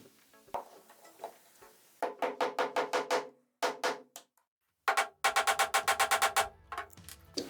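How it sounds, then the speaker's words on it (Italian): Rapid bursts of hammer blows drive a wooden dowel into beech wood, several quick series of sharp knocks separated by short pauses, close and distinct. "con il martello la mandiamo giù"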